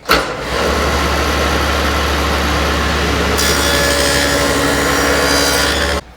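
A saw cuts steadily through a wooden board held against a stop block, part of building a mud room entry wall shelf; a loud continuous whirring drone lasts about six seconds with a brief start and clean stop, with no talk.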